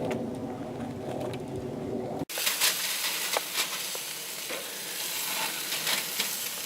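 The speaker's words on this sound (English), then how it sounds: "I'm making steak." Steak fries in a pan with a close, steady crackling sizzle that kicks in abruptly partway through after a lower, hummy background.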